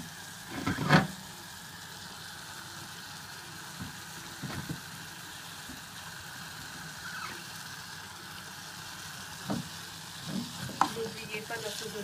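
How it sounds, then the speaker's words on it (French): Cubed green and red bell peppers sizzle steadily in a frying pan for a chicken rice dish, a constant close hiss broken by occasional stirring scrapes and clatters. "je vais commencer à rajouter le poivron vert et le poivron rouge"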